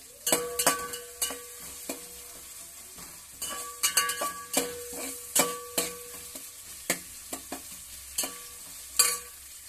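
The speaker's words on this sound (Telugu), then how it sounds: "కొంచెం ఫ్రై అయిన తర్వాత జీలకర్ర వేయాలి, కొంచెం పేస్ట్ వేయాలి" Cumin seeds frying in oil in a pan for jeera rice, with repeated sharp clinks and scrapes of a spoon stirring against the pan over a soft, steady sizzle.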